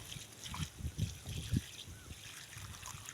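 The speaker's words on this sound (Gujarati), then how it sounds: "પાણી પાઈ દઈએ આપણે લીંબુડીને" Water trickles and splashes from a can onto a lemon plant in a garden, a short, close, uneven pour with soft gurgling pulses.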